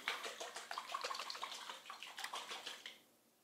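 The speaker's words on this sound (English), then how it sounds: "put on this lid, put it on really tight, and just shake it vigorously" A vinaigrette shaken hard in a tightly lidded jar gives a close, rhythmic run of liquid sloshes and splashes for about three seconds, then stops abruptly.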